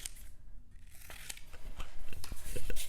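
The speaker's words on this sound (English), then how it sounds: "Now I'm going to cut apart each letter, and I'm going to hand them to them as I am cutting them out." Scissors cutting apart paper letters, a series of crisp snips and paper rustles close up, growing busier and louder toward the end.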